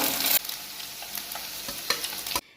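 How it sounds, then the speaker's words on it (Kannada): Paneer chunks, about 200 grams, frying in hot oil for a dhaba-style paneer masala, giving a steady close sizzle with a few stirring scrapes and no voices. "ಇಲ್ಲಿ 200 ಗ್ರಾಮಷ್ಟು ಪನ್ನೀರ್ನ ನಾನು ಎಣ್ಣೆಲಿ ಹಾಕಿ ಫ್ರೈ ಮಾಡ್ಕೊತಿದ್ದೀನಿ"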